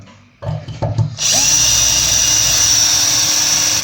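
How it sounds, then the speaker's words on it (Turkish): After a few knocks and short bursts, a power drill spins up and whines steadily and loudly, close by, drilling continuously to the end, widening a tap hole step by step up to 9 millimetres for a water purifier. "Şuradan delmeye başlıyorum."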